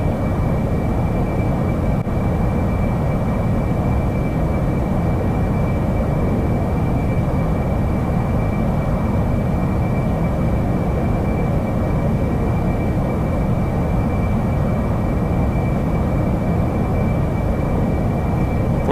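AV-8B Harrier jet climbing in DCS World, a loud, steady, broadband engine roar with a thin high whine held throughout, unchanging and continuous, no talk.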